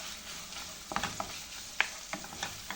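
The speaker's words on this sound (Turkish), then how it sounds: "Soğanımı koyuyorum üzerine. Ve ikisini birlikte kavurmaya başladım." Onion sautéing in a pan for moussaka, a steady close sizzle with a few sharp spoon scrapes and taps scattered through, no voices.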